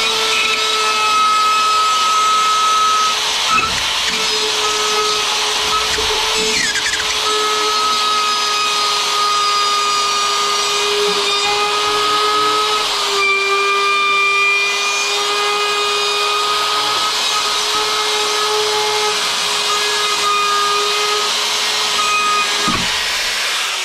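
A Rotozip rotary tool whines at a constant high pitch as it cuts drywall around an electrical box, a steady close cutting sound that runs unbroken with small dips in pitch where the bit meets resistance.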